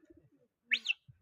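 A faint two-part pigeon call rises briefly out of near quiet in the middle of the stretch, set among soft low rustles and a distant murmur; part of a pigeon-flying contest.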